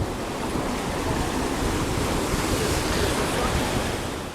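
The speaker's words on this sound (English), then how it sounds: "A bit of a breeze today on this side." A sea breeze blows along the coast near a marina in Alicante, Spain, a loud steady rush of wind mixed with surf, buffeting the microphone continuously with no talking.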